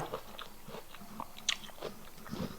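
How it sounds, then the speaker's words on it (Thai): Someone eating fried rice with Chinese sausage and crunchy raw vegetables, with soft, scattered bites and crunches heard close and fairly quiet, without talk. "กินง่ายๆ ค่ะมื้อนี้ข้าวจานเดียว"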